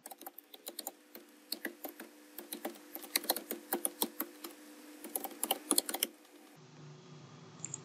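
Someone types an email address on a computer keyboard, a quick, irregular run of crisp, close keystroke clicks lasting several seconds before stopping, with no talking.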